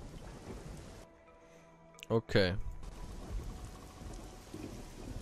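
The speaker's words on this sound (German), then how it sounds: "Aber es regnet auch, ja." Steady hiss of rain with a low rumble of thunder underneath in the video game Risen 2, interrupted briefly by a short burst of speech, then the downpour continues.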